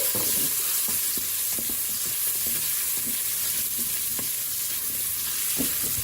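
Veal pieces brown in a Cookeo multicooker while being stirred, giving a continuous loud sizzle with scattered scraping and clicking knocks of the utensil against the pot.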